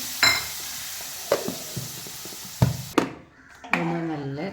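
Mustard seeds fry in hot coconut oil in a pan for beetroot chutney, with scattered sharp pops and crackles over a soft sizzle. A crow caws in the background near the end.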